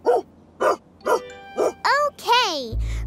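Cartoon dog gives a run of four evenly spaced, high, clean barks, then yipping, whine-like calls that bend in pitch, loud and close, with a low rumble at the end.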